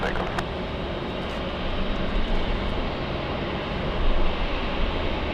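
A Delta heavy jet airliner takes off from runway 24 left at LAX, its engines a loud, broad, steady roar close by that swells slightly near the end.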